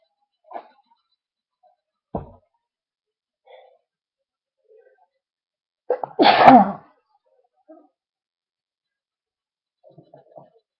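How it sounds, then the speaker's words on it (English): A single loud, close sneeze bursts out after a few small sniffs and breaths, then quiet follows with faint stirring. "I think I might sneeze"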